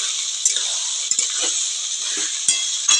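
Fried chicken is stirred in a pan with the remaining ingredients and winter vegetables, giving a continuous sizzle broken by several scraping, clinking strokes of a utensil against the pan.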